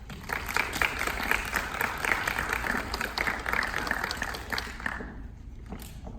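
An audience applauds to welcome a guest speaker, steady dense clapping from a crowd that holds for several seconds and then tapers off abruptly near the end.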